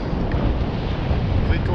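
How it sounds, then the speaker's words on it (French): Strong headwind of 15 to 18 knots buffets a sailboat at sea, a steady loud rushing roar of wind across the microphone over the churn of water, continuous and close. "Entre 15 et 18 nœuds de vent de face."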